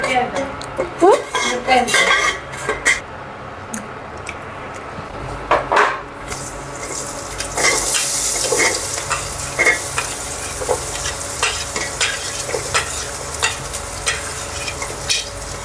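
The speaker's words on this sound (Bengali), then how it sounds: "পরিমাণ মতো তেল দিয়ে দিলাম এবার ভাজি করলাম" Onions frying in oil in a pan for khichuri, with a close, continuous sizzle under repeated scraping and clinking of a metal spoon stirring against the pot, and brief talk in places.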